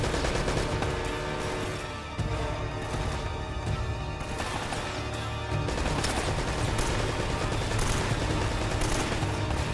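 Constant loud gunfire from Uncharted played on Crushing difficulty, dense rapid shots and bursts with impacts, continuing almost without pause throughout.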